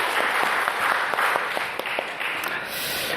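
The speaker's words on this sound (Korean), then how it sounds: "우리 찬양대 수고했는데 박수 한번 쳐드립시다" A church congregation applauding the choir after a hymn, a dense, steady wash of many hands clapping together, close and lively, lasting the whole moment with a faint voice underneath.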